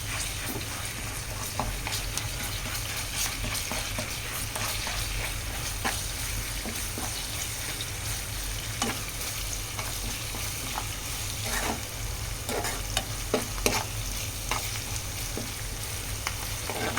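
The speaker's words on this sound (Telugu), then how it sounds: "ఒక 2-3 మినిట్స్ ఆనియన్ అయితే ఉడకనిద్దాం." Onions frying in a pan for an okra curry, a steady dense sizzle filling the whole stretch, with occasional light clicks and scrapes of stirring, close up and free of speech.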